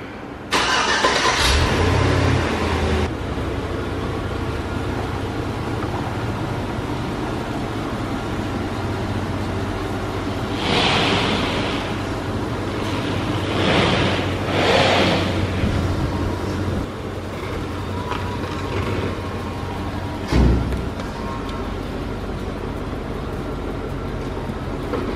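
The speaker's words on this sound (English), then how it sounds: "I just finished putting everything back up on the Suburban. About to take it for a spin." Chevrolet Suburban on a test drive after repairs, with a steady mid-pitched engine drone and road noise throughout, a few louder surges of wind or passing sound, and a brief thump near the end.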